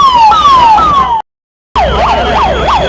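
A loud, close ambulance siren wailing as it carries a body away after a plane crash in Ahmedabad, briefly cut off mid-way, then resuming with a rapid rising-and-falling yelp pattern.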